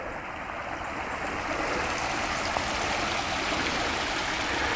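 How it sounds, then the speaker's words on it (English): A babbling brook along the Great Miami River Trail, with water flowing in a steady broadband rush and gurgle that holds even and close throughout, no one speaking. "Babbling Brook."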